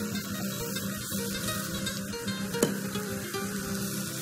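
Chicken added to mushrooms frying in oil in a pan, giving a steady close sizzle with soft crackles throughout and a single sharp clink partway through.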